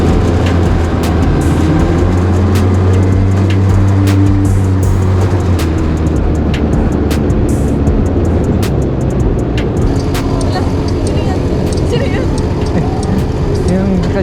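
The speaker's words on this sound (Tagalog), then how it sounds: "Lalabasan na yung magagandang sasakyan." Cars on a Tokyo street, a loud close engine and road rumble with rattling and clicks, a low droning pass in the first few seconds, then steady traffic noise.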